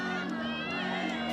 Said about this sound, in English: You hear the chants from the crowd.